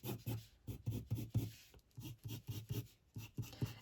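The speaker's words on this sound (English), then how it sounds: "You can draw a bunch of needles" Pencil or pen sketching clumps of pine needles on paper, a close, quiet run of quick scratchy strokes in short bursts with brief pauses between.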